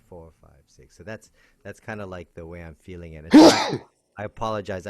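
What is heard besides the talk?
sneeze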